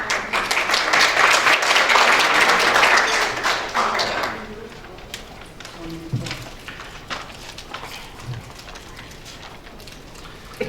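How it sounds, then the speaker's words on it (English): Audience applause welcoming a speaker at the World Journalism Conference 2024, loud sustained clapping across a hall for about four seconds, then fading to scattered claps and quiet room noise. "please join me in welcoming him with a big round of applause"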